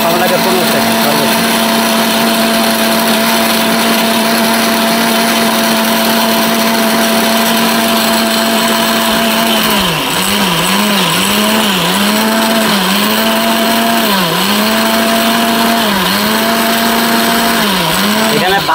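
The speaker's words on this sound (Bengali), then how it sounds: "এগুলো খুবই হাই কোয়ালিটি ব্লেন্ডার মেশিন" A high-quality electric blender grinds liquid spice paste with a little water, its steady loud motor whine running continuously, then dipping and surging rhythmically as the pulse setting kicks in.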